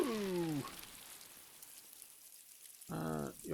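Steady rain pours down during a storm on the open sea in the video game Havendock, a soft continuous hiss between two short bursts of speech at the start and end.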